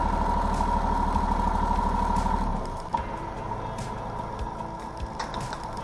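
Tractor engine running steadily as it drives around to the back of a shop to try landscape implements, a loud low rumble with a rhythmic ticking beat that drops in level partway through and continues more quietly.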